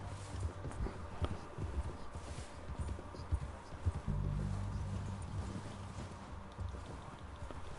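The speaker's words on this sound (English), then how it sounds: "I'm reversing my horse." Horse hooves clopping in Red Dead Redemption 2 as the horse backs up, a steady run of soft, close steps with a heavier low thump partway through.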